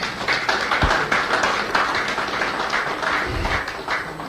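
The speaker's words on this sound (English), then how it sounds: "I'll appreciate it if we give another round of applause." A sustained round of applause fills a hall at the Group of Corporate Online Publishers annual conference, dense clapping from a large audience continuing steadily throughout.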